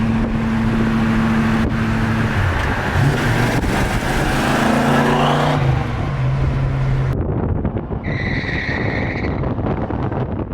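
Ford Mustang S550 fitted with a new dual exhaust, a loud close engine drone with pitch rising and shifting under wind rumble, then a higher whining tone near the end, with no talk.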